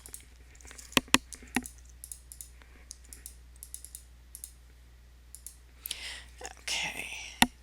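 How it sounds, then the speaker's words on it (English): Computer mouse clicking while painting in Photoshop, a handful of sharp isolated clicks spaced irregularly in a quiet room, with soft brief rustles and faint breathy sounds between them. "And I just start clicking around here."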